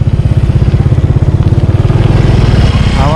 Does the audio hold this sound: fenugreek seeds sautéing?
no